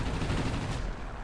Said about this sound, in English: You see those 8 machine guns are devastating if you can get in close and use them